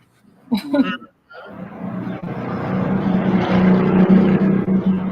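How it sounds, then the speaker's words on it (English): After a brief spoken exclamation, small motorbike engines buzz and rev nearby, growing louder and holding a steady droning whine. "kids riding their little motorbikes"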